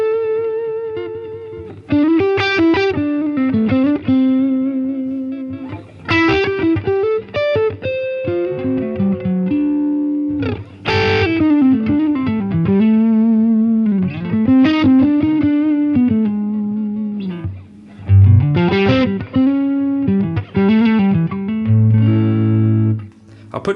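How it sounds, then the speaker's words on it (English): An electric guitar plays through a Line 6 Helix modelling a Fender Deluxe Reverb amp with a Tube Screamer overdrive, giving loud, crunchy riffs and sustained chords with short pauses between phrases. "basically a Tube Screamer Deluxe Reverb like that, I think has got a really, really cool sound"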